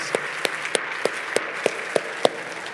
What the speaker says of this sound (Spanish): ¿Por qué no das un aplauso a todas las personas que participaron en esto?